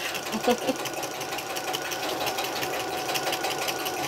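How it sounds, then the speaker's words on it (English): A sewing machine runs a long basting stay stitch around the edge of a crumb quilt block, a steady droning motor hum with rapid rhythmic needle pulses, close and continuous, no talking. "sew around my drawn edge here to do my stay stitch"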